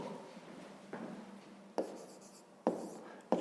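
Numbers being written by hand, probably pen on paper, with soft, close scratchy strokes and a few sharp taps as the pen touches down. There is no talking during the writing.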